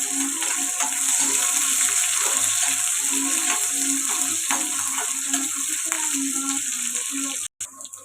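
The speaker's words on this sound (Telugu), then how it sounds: "పచ్చిమిర్చి ఉల్లిపాయలు అయితే వేసేసుకున్నాను ఇప్పుడు ఫ్రై అవ్వాలి" Green chillies and onions fry in a pan for a taro-root curry, giving a loud, steady broadband sizzle with faint stirring scrapes throughout and a brief cut-out near the end; no one speaks.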